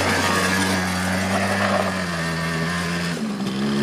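A 50cc quad bike engine runs close by with a steady, buzzy drone that shifts pitch slightly and dips toward the end, loud and continuous without talk.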